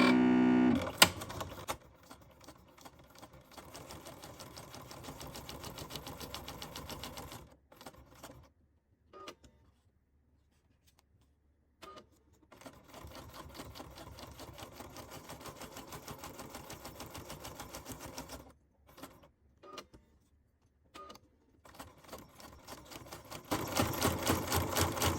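A sewing machine stitches around the perimeter of a time card flip book in bursts of steady whirring, pausing several times between runs.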